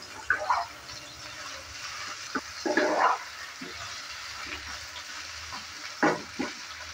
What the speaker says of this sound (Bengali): হলুদ আর লবণটা দেওয়ার পর ভালো করে আবারও নেড়েচেড়ে নিচ্ছি